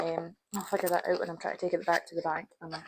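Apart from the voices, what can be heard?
No distinct noise like a dog, phone or traffic.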